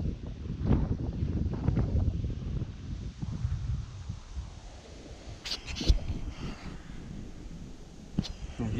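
Steady wind rushes and buffets the microphone outdoors on a late-autumn November duck hunt, with low rumbling gusts and a few brief sharper knocks.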